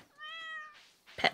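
A pet cat in the video game Stardew Valley gives a single clear, tonal meow followed by a short soft burst, quiet and alone.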